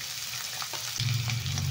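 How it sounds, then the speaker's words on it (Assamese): Chopped onion fries in hot oil in a pan, a close, steady sizzle with a few scraping stirs of the spatula, the sizzle swelling louder and denser in the second half; no voices. "পিয়াজখিনি অকমান ৰংচোৱা হোৱাকৈ ভাজি লম।"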